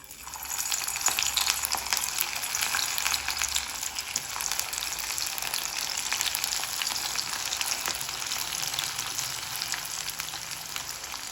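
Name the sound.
frying methi bajri-suji vada in oil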